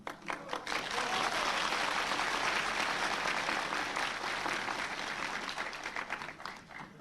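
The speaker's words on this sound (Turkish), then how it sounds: "Öyle bir noktada bu alkışı yaptınız ki" A crowd at a 1994 Erbakan political rally in Bursa breaks into applause: a burst of dense, sustained clapping that swells, holds for several seconds, then thins out near the end. It sounds somewhat distant and reverberant.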